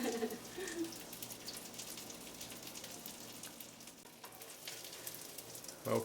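Egg-battered Korean-style shrimp fry in a frying pan, a steady low crackling sizzle with scattered pops, fairly quiet and continuous with no talking.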